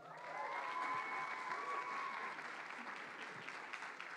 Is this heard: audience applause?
yes